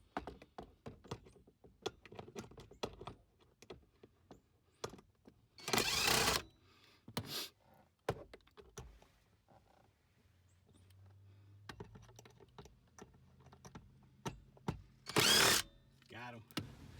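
A power drill backs out screws near the glove box of a Nissan Rogue during an A/C blower motor repair, two short loud whirring bursts among clicks and handling clatter, with a person talking throughout.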